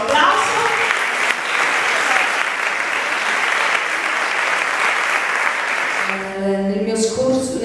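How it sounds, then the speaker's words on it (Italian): Audience applause in Policoro greets a journalist and writer at a book presentation, steady dense clapping for about six seconds before a voice starts speaking as it fades. "a cui va il nostro applauso."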